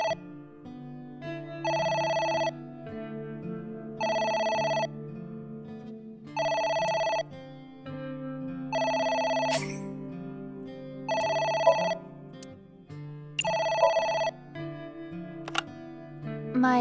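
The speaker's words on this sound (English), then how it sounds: "It's the phone. Maybe try picking it up?" An in-game telephone in AI: The Somnium Files rings in six evenly spaced double-bell bursts over a low ambient music bed, loud and close, with no voices.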